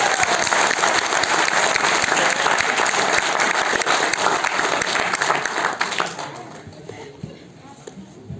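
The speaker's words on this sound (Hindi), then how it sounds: "एक जोरदार क्लैपिंग आप सभी के लिए" An audience at a company vision event breaks into loud, dense applause that fills the hall for about six seconds, then thins out and fades as the clapping dies down.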